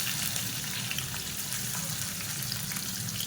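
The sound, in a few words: onions frying in hot oil in a pan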